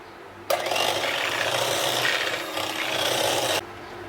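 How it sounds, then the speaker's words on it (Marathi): An electric beater whips a chilled ice cream base mixture, a loud continuous whirring buzz that starts abruptly, runs for about three seconds with slight wavering, then cuts off. "थंड झालेलं हे मिश्रण आता मी बीटरने बीट करून घेते"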